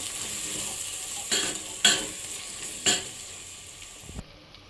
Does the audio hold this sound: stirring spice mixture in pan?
yes